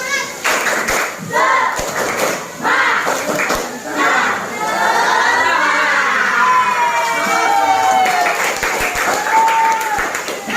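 Schoolchildren in a classroom doing a tepuk semangat group clapping chant, rhythmic claps mixed with loud shouted and sung voices, a lively crowd of kids close by.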